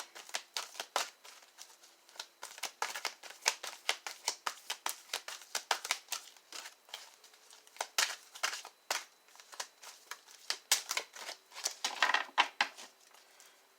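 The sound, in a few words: shuffling tarot cards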